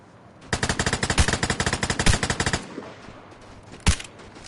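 Rapid automatic gunfire in the Outlands video game, a burst of about twenty evenly spaced loud shots lasting two seconds, then a quieter pause and one more sharp single shot.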